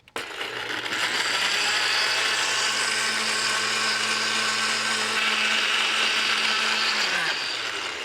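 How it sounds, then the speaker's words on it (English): Blender pureeing a Scotch bonnet chili seasoning of lime juice, water, salt and pepper, a loud, steady motor whir that starts abruptly, holds for several seconds and winds down at the end. "Puree these ingredients in a blender."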